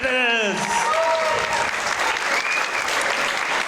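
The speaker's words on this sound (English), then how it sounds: "Please a big round of applause for both of our competitors." Loud crowd applause at a combat sports event after a bout, continuous clapping with a voice speaking over the start and some cheering mixed in.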